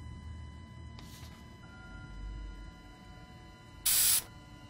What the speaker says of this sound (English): Anti-rust spray. Probably for the lock here.